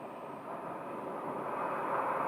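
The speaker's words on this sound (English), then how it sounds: "It's a Citation, a Cessna 525B Citation Jet 3, and it came from the FBO on the south side." A Cessna 525B Citation Jet 3 business jet at an airport waits near the runway, giving off a steady, broad engine roar heard at a distance, even and slowly swelling, with no voices.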